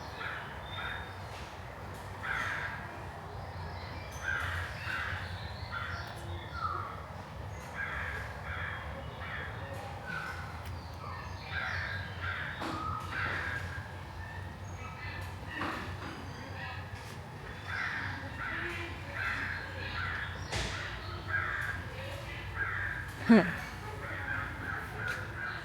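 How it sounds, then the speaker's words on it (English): Crows caw repeatedly at a nature center in the Ozark Highlands, short harsh calls scattered across the scene at moderate distance, mixed with outdoor ambience and occasional talking. "you got a little bird action going on up ahead."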